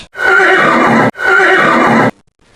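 A horse whinnies loudly and close up, two identical long neighs back to back with a brief gap, then silence.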